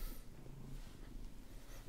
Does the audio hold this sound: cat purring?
yes